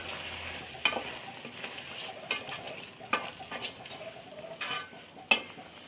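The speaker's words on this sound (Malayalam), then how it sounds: "നമുക്കൊന്ന് ഇളക്കി നോക്കാം." Chicken curry being stirred in a pan, with a soft, steady simmering hiss under intermittent spoon-on-pan scrapes and clinks at irregular intervals, close and moderately quiet, no one speaking.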